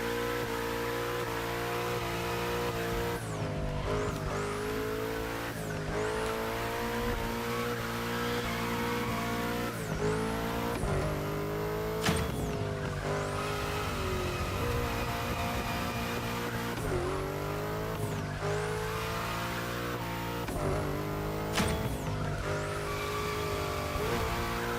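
A car drifts in The Crew Motorfest, a sustained engine roar with repeated high tire squeals sweeping through each slide, loud and close throughout.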